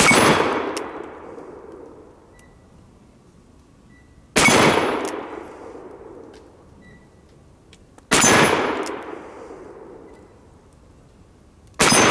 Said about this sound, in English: let me take the heel-based 38 short Colt bullets and see if I can ring any of those steel plates with them